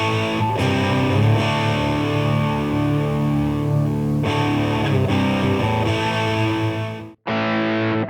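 Electric guitar played dry through a Fender Mustang GTX 100 amp with no effects and EQ near noon, light overdrive: sustained chords and riffs ringing loud and close, then a sharp cut to near silence before a final chord.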